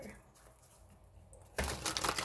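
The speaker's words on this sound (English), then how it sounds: "Okay, one more shuffle for Virgo." Tarot cards being shuffled by hand, a quiet riffling that turns into a loud, dense burst of flapping and clicking card edges in the last stretch.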